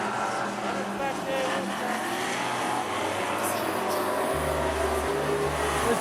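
Race cars at Rockhampton Speedway roar around the track as a loud, continuous engine drone, with a deeper engine note rising near the end and a commentator talking over it.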